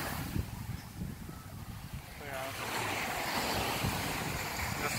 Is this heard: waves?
yes